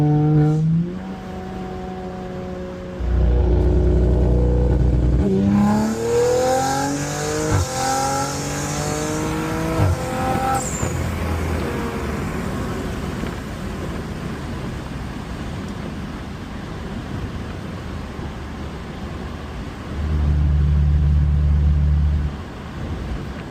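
An Audi RS5 accelerates hard with rolling anti-lag, its engine climbing through rising gear pulls with popping and crackling bursts, heard from inside the car, then settling to a steady cruise drone before another deep rev.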